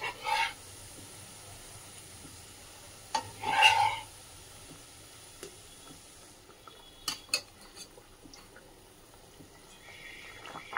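Pomfret fish pieces stirred into a pot of boiling curry with coriander leaves, giving a couple of brief scraping, clattering stirs over a soft steady simmer, otherwise fairly quiet.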